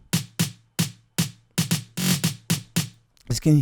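Programmed amapiano tom and snare drums struck together, snare higher in pitch, in a steady, slightly uneven pattern of about ten sharp hits with short decays, followed by a brief burst of voice at the end.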